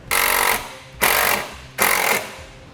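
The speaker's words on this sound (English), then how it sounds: "put it on a 5/16 driver, and we will go into the hole that we drilled. We can fully tighten this screw." A power driver with a 5/16 bit runs a screw into a drilled hole while mounting a custom-fit vehicle side step, in three close, loud whirring bursts with short pauses between them.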